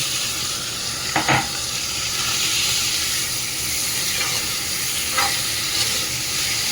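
Masoor lentils sizzle steadily in a hot pan, a constant hiss with a few brief clinks of a utensil.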